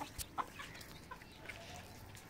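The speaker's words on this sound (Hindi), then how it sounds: "ये देखिए अंदर जा रही हैं दो मुर्गा मुर्गी" Rooster and hen clucking near their coop, a few short sharp clucks and squawks against a steady background of farmyard noise, with no one speaking.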